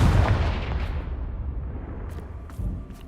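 Blasting Confringo spell explosions in the video game Hogwarts Legacy, loud booming bursts with a rumbling low end that decay, followed by a couple of sharper, fainter pops near the end.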